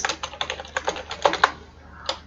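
Code being typed on a computer keyboard: a quick run of close, crisp key clicks with uneven rhythm, a couple of louder strokes, then a pause and one last keystroke.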